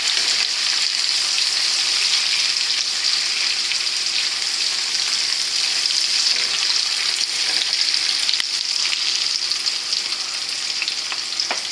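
Garlic and meat for pork and chicken adobo sizzle steadily in a hot pan, a continuous loud frying hiss with faint stirring scrapes and no talking.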